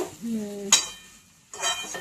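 A spoon stirs sabudana and potato khichdi in a pan, giving a short scraping clink and a soft stir in two brief bursts separated by a quiet gap.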